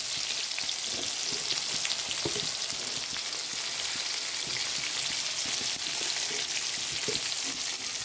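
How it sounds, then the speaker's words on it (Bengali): Pointed gourd (potol) sizzles and crackles steadily in hot oil in a pan, a dense continuous frying hiss with occasional pops, no voices. "দেখো পটলটা ভাজা হয়ে এসছে, এর মধ্যে এবার নুন দেবো।"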